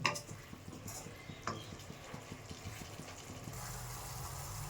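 Spices, chopped coriander and tomato for pea ghugni are stirred in a pan with quick, rhythmic scraping strokes and a faint sizzle, quiet and close with no talk.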